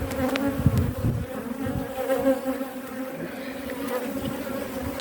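Many honey bees buzz at a hive in a dense, steady drone close by, with individual insects whirring past over the continuous hum.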